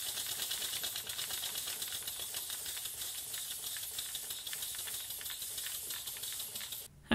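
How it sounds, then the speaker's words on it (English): A small live steam engine running for the first time on live steam, its leaking hose fittings giving a steady loud hiss with rapid, typewriter-like chuffing pulses throughout, cutting off abruptly near the end. "the engine does sputter to life on live steam"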